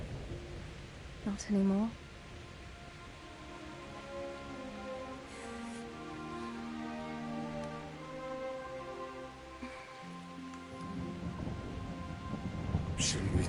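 Thunderstorm with rain in the medieval video game Kingdom Come: Deliverance: a sharp thunder crack early on over steady rain hiss, with distant rumbles later, while people talk over it.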